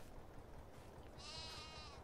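Sheep on a farm in the video game Farming Simulator 22 give a single faint bleat that rises near the end, heard alone over a low background hum.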